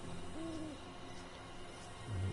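An owl hoots at night in the video game The Vanishing of Ethan Carter, a short wavering call heard clearly over a steady ambient background.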